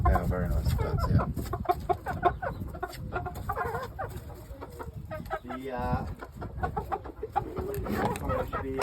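Shamo game chickens cluck and call repeatedly at close range in a busy pen, with people talking among the birds throughout.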